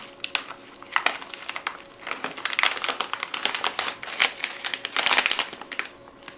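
A parcel from China is torn and opened, producing close, busy crinkling and rustling of plastic and paper wrapping in irregular bursts, with no talk.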